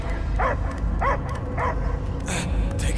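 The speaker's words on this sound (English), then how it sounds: "I hear only barking." Dog barking in Marvel's Guardians of the Galaxy, several short yelping barks spaced about half a second apart over a dense rumbling game background.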